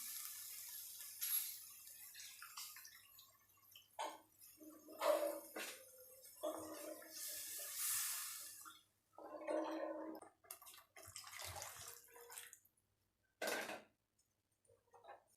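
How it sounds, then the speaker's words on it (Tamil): Water poured into a chickpea curry masala in a pan, with splashing and sizzling bursts, stirring and utensil clinks in a quiet home kitchen, intermittent and fairly close. "தண்ணி ஆட் பண்ணிக்கலாம்."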